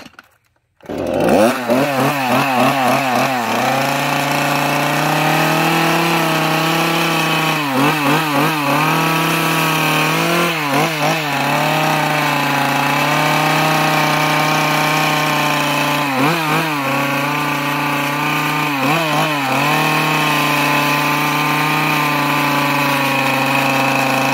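A chainsaw starts up and runs loudly and steadily close by, its engine revving in repeated surges and dipping back to a rough idle.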